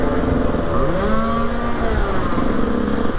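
A KTM 125 EXC two-stroke dirt bike engine revs up and down close by, its pitch rising and falling in a few quick sweeps, loud and buzzing with no voices.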